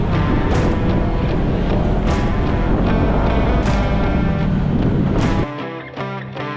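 Kawasaki KRX 1000 off-road vehicle driving a trail in cold weather: a loud, continuous engine roar with wind buffeting and periodic thumps, easing to a quieter idle-like drone near the end, with no talking.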